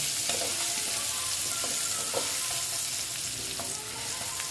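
Potatoes fry with turmeric in a pan, a steady broadband sizzle with occasional stirring scrapes and clinks throughout, close and continuous.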